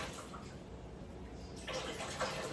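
Water runs steadily while purple cabbage is rinsed in a basin, a soft continuous splashing that grows a little brighter and louder near the end, no voices.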